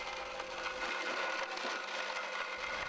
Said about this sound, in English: When all the apples have gone through the mill, switch off the machine.